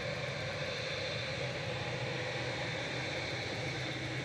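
Qatar Airways Boeing 787-9 jet departing Manchester Airport, a steady broadband engine roar holding at constant loudness throughout, somewhat distant, with no voices.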